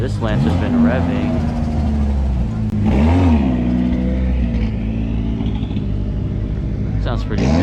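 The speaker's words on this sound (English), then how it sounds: "This Lancer's been revving." A Mitsubishi Lancer revs its engine at a car show, the steady motor roar rising and falling in loud bursts close by, with crowd chatter and other engine noise mixed in.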